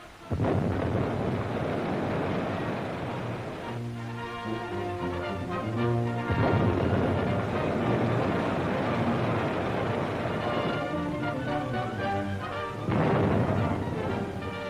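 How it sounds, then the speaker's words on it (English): Y-gun depth charges are fired from Coast Guard cutters at a submarine, heavy booming blasts and rumbling underwater explosions that come in repeated surges over a long, loud roar. "Gun and gun crews stand by and ready. The Y guns ready. And here it comes."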